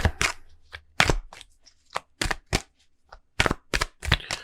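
Tarot cards being shuffled by hand, heard as a series of crisp, papery riffles and slaps in irregular bursts with short pauses between them, close up and fairly quiet, with no talking.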